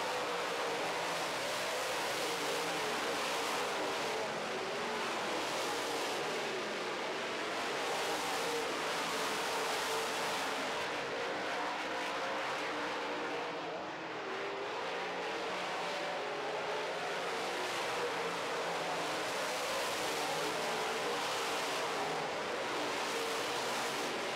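Late model race cars lap a track during a feature race, their engines blending into a continuous, loud, droning roar that swells slightly as cars pass, with no break across the whole stretch.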